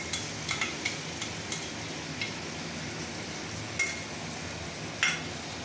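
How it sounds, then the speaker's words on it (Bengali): Tomato and chili paste with spices is sautéed in a pan for a fish curry, a soft continuous sizzle with a handful of faint spatula taps and scrapes, two louder knocks near the end. "এবার এটাকে একটু ভালো করে কষাতে হবে"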